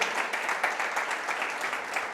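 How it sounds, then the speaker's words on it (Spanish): Congregation applause at a Spanish-language church service, a dense, even patter of many hands clapping throughout, fairly close and without talk over it. "le damos un aplauso al Señor"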